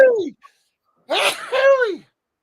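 A single sharp sneeze bursts out, preceded by a brief vocal sound, then silence.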